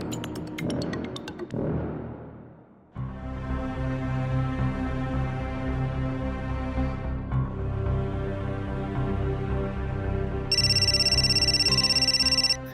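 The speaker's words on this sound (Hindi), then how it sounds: "सुजल का फोन।" A phone ringtone plays loudly and steadily for several seconds, a repeating electronic melody after a brief burst of other sounds.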